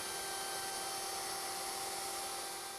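A handheld router fitted with a 6.3mm radius rounding-over bit shapes the top edge of a wooden coffee table, giving a steady, high-pitched whine with a hissing cutting noise that holds constant throughout, with no talk.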